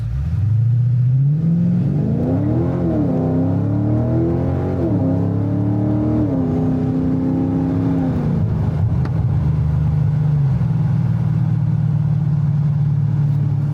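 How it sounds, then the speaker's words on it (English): A Dodge Scat Pack cruising in 8th gear gives a continuous, loud engine drone with no talk: revs rise and fall briefly at first, then settle into a low, steady hum. "there we are in the 8th gear, cruising along"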